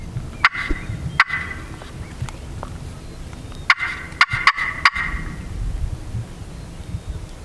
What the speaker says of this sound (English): He gobbled. Did you hear him?